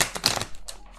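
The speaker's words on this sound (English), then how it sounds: "I can never shuffle this deck like perfectly." Close, brisk riffling of a tarot deck being shuffled, a few quick bursts of flapping and slapping within about a second.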